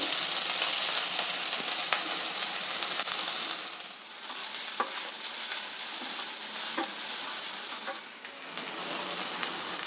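Onion and grated carrot fry in a pan with ginger and green chilli for instant rava paddu, a continuous sizzle broken by sharp clicks of a spoon stirring and scraping.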